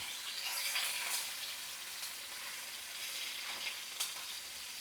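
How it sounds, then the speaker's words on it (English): A steak being pressed into a hot pan sizzles in a continuous loud hiss, with a few sharper crackles and pops standing out above the steady searing. "you're going to want to press that meat into the pan"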